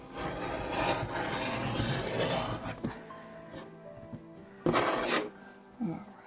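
Quilt fabric being trimmed for an Easter quilt, a close scraping, rubbing cut lasting a few seconds, then quieter handling with a couple of short sharp bumps near the end.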